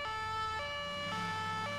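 A police car siren from GTA IV with the LCPDFR mod wails in a steady two-tone pattern, loud and close, alternating pitch roughly every half second over low engine rumble.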